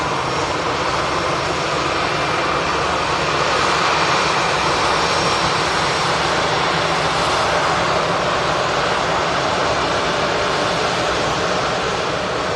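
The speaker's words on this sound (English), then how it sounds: "EasyJet coming in from Paris, Charles de Gaulle." An EasyJet airliner arriving from Paris Charles de Gaulle on approach to land at Manchester Airport, its engines a steady, loud broadband roar that holds for the whole stretch with no voices over it.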